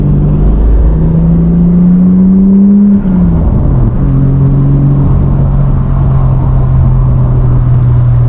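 A 1990 Toyota Supra Turbo MK3 engine pulls hard from inside the car, its tone climbing through a rev, dropping at a gear change, then droning steadily at loud, close range with a whirring turbo note.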